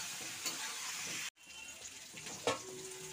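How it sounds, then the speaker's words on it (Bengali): Potato and pointed gourd pieces frying in a pan with turmeric and salt, a dense continuous sizzle close by, briefly cut off midway and resuming softer with an occasional stir. "একটু হলুদের গুঁড়ো দিয়ে আলু পটলটাকে ভাজা ভাজা করছি।"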